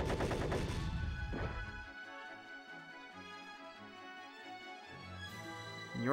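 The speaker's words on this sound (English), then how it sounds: "So your cannon's gonna hit Harpy Lady." Cannon attack striking Harpy Lady in Yu-Gi-Oh! The Falsebound Kingdom, a loud rapid burst of blasts for about two seconds, then ringing tones as the effect fades, with another impact near the end.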